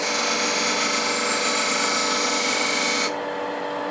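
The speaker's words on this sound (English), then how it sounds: "I'm going to just chamfer that corner there, because that's where I'm going to strike the thread" A lathe point tool cuts a 45-degree chamfer on the corner of a workpiece ahead of threading, a close, bright scraping hiss over the steady hum of the spinning machine, the cut cutting off near the end.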